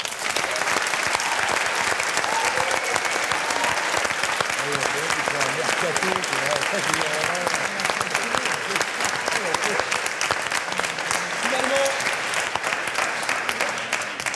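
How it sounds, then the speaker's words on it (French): Loud, sustained audience applause for the Saint-Germain-en-Laye team at the 2019 French national debate championship final, dense clapping throughout with crowd voices and cheers mixed in. "Veuillez applaudir les tribuns de Saint-Germain-en-Laye"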